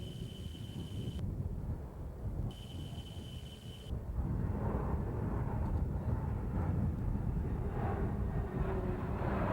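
RAAF PC-9 aircraft flying in tight formation at an Australian airshow, a continuous distant propeller-engine roar that swells louder partway through, with wind noise.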